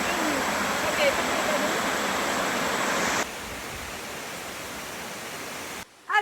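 A large waterfall, the Cascada de Cadiz, roars as a dense, steady broadband rush that drops slightly in level partway through, with no clear voices.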